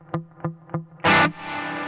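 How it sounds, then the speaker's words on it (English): Three soft plucked electric guitar notes through a Red Panda Context reverb pedal, then a hard distorted strum whose washy reverb tail swells in after it. "left is a ducking reverb, right is expanding"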